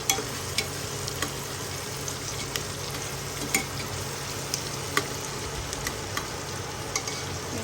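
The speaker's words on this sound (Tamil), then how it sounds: "மக்களே அப்படியே தாளிச்சுக்கிட்டே இருங்க." Spices temper in hot oil with a constant close sizzle, punctuated by sharp irregular pops and crackles as seeds burst, with nobody talking.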